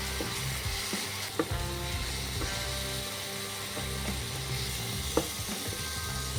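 Spice masala sizzles steadily in a pan while being made for an eggplant bharta, with a constant frying hiss broken by occasional sharp scraping clicks of stirring.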